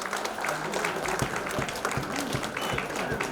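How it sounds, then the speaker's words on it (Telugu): Audience applause at an evening tribute event honoring a singer in Kakinada, a steady dense clapping from a crowd lasting throughout with some voices mixed in. "అందరూ చప్పట్లు వినపడాలి"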